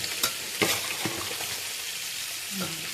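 Fish pieces and green chilies fry in a pan, a loud continuous sizzle broken by a few crackling spatter bursts and light stirring knocks, with no talk.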